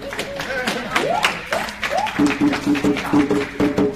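A crowd claps steadily while voices talk and cheer over the applause, with a low hum running underneath.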